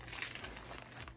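Paper or plastic mail packaging crinkling and crumpling as it is ripped open by hand, a dense close rustle lasting about a second.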